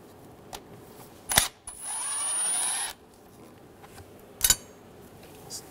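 A screw is driven out on a 2006–2009 Mercedes-Benz E350 with a 3.5L V6 engine. A short whir of a power driver runs for about a second, framed by a few sharp metallic clicks, close and otherwise quiet.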